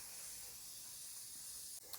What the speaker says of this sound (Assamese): এতিয়া মই মাছ ফ্ৰাই কৰি লোৱা তেলতে পাঁচফোৰণখিনি ভাজি লম